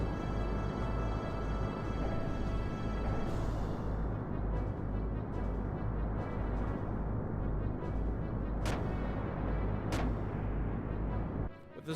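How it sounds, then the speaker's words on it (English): Rotating turret guns fire in the Xenogears video game, a dense, loud, continuous barrage of rumbling booms with a few sharper bursts standing out, running nearly unbroken before cutting off at the end. "Those are rotating turret guns."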